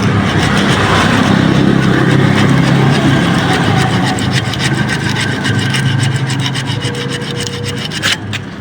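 Sandpaper rubbed by hand over a motorcycle clutch housing on a GD 110, a loud, continuous, close rasping scrape that keeps a steady back-and-forth rhythm throughout.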